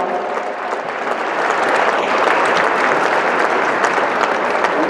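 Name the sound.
audience applause at yoga championship opening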